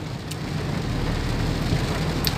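Steady, incessant rain pours down in Prayagraj, a dense continuous hiss of drops striking surfaces with no break, heard up close and fairly loud, with no voices over it.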